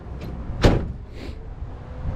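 A single solid thump of a 1985 Chevrolet El Camino's door being shut, close by and fairly loud, standing out over a low outdoor rumble, with a fainter knock shortly before and a softer rattle after.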